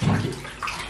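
Water sloshes and splashes in a tub while goldendoodle puppies get their first full bath, a close, loud, broadband burst of splashing lasting under a second.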